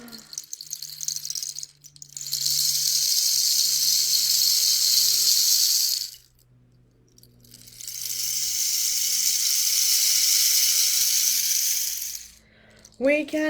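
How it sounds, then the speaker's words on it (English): A rain stick played in two long pours, each a bright steady hiss like rushing water lasting about four seconds, with a short pause between and a faint low hum underneath. "The rain stick sounds like water as well."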